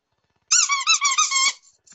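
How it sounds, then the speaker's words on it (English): A squeaky plush lamb dog toy lets out a loud, close run of rapid squeaks for about a second, then a faint trailing squeak, with no talking over it. "Oh, the squeaky, that should always do it."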